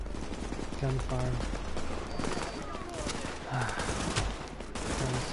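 Gunfire in the video game Tom Clancy's The Division: rapid bursts and single shots crackle under a busy mix of game effects and voices throughout.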